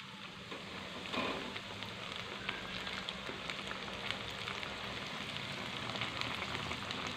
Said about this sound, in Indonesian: Kita langsung saja goreng ya, ini minyaknya sudah panas.